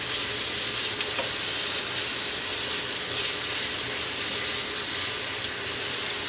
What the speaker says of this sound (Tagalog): Olive oil, and then garlic, and then onions